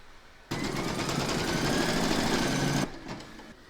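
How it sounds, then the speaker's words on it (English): An embroidery machine stitches a round of appliqué on a Santa design in a hoop, a steady loud mechanical whirr that starts abruptly, runs about two seconds, then stops. "Pop your hoop into your machine and stitch round number 5 to secure it."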